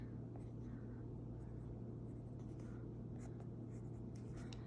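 A pen scratches across paper while outlining a t-shirt fashion illustration, faint intermittent strokes and ticks over a steady low hum of room noise.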